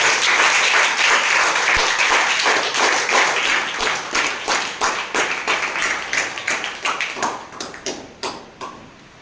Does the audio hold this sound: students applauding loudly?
yes